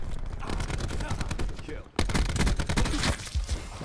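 Dense bursts of rapid automatic gunfire in Call of Duty Black Ops 4, near and loud, with a brief pause before another volley of shots and impacts.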